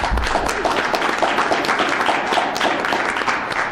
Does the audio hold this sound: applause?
yes